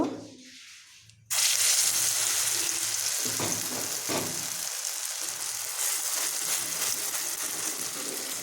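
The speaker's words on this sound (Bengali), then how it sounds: "কড়াইটা বসিয়ে এই যে তেল গরম করে নিয়েছি, আর এই যে ডালটা আমি মেখে নিয়েছি। এইবার আমি এর মধ্যে চাপড়গুলা করে নেব।" Lentil paste fritters drop into hot oil in a wok and sizzle loudly, a sudden steady crackling frying hiss that continues throughout after a quiet start.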